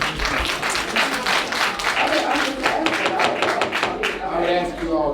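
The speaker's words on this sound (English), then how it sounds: "I would ask you all not to applaud." An audience at a city council meeting in South Fulton applauds, a steady, dense patter of many hands clapping in the room, mixed with some thumps and faint voices.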